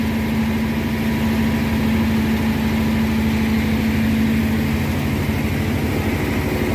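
A 1957 Thunderbird engine, off the road for 35 years, idles steadily with a low, even rumble and constant hum, close and loud, with no voices.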